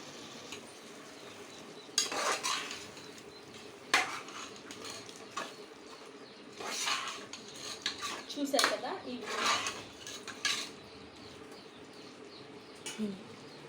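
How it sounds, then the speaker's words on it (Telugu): Marinated chicken is stirred into a biryani masala mixture in a pot for chicken dum biryani, giving repeated close clanks, scrapes and wet stirring sounds in irregular bursts with no talk. "ఆ మ్యారినేట్ చేసిన చికెన్ మొత్తాన్ని ఈ మిశ్రమంలోకి షిఫ్ట్ చేసుకొని ఒక్కసారి మనం దీన్ని కలుపుకుందాము"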